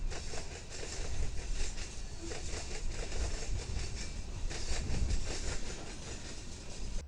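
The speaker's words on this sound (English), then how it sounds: "Here's another CPKC train passing the Tower 26 Diamond, this time on another lovely evening in Houston" A CPKC freight train rolls past the Tower 26 rail diamond in Houston on an evening, a steady, loud rumble of wheels and cars with faint clicking continuing throughout.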